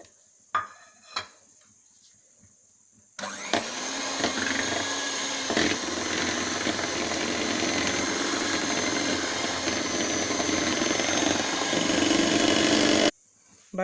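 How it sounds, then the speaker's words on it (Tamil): An electric hand beater creams butter for butter biscuits, starting abruptly after a few faint knocks and running as a steady, loud motor whir for about ten seconds before cutting off. "இப்போ நாம் பட்டர் போட்டு பீட் பண்ணிக்கலாம்."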